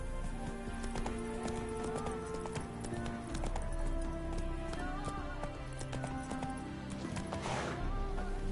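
A horse gallops in The Witcher 3 game, its hooves beating a quick, steady clip-clop over looping game music and ambience, with no voice over it.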